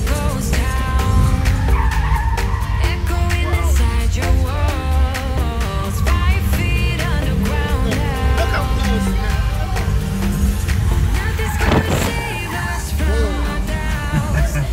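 A Subaru in a precision driving stunt skids and squeals its tires at length over a revving engine, loud and close, with crowd noise and voices mixed in.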